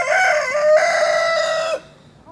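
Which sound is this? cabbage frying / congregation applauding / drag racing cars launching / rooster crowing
rooster crowing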